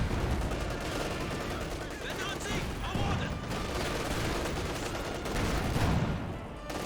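Artillery barrage and gunfire in Company of Heroes 2 battle: continuous loud rumbling shellfire and rattling shots heard under a commentator's voice.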